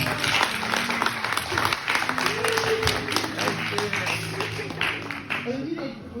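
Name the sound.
congregation applauding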